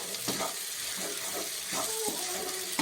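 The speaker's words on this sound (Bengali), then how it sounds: "এবার আমি জল দিয়ে দেব জলটা খুব বেশি দেব না" Water is poured into a pan of fig curry cooking with spices, a steady close splashing pour over a faint sizzle, with no talking.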